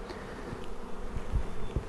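Honeybees buzzing around an open hive: a steady close hum of many insects with a few soft knocks, no talking.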